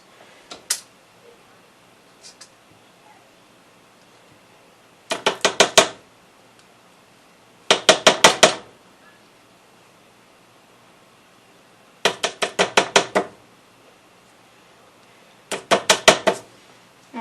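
Cupcake batter is scooped out of a bowl, heard as short bursts of rapid scraping clicks from the utensil against the bowl, repeating every few seconds with quiet stretches between.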